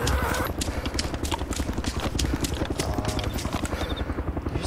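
A video game helicopter's rapid rotor thumping pulses steadily and loudly throughout, with a voice briefly heard underneath.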